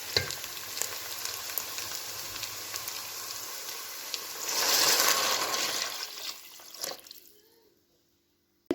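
Steady frying sizzle with scraping stirring as water is added to vegetables frying in oil for meatball soup, swelling into a louder hiss as water hits the hot pan, then fading quickly to quiet.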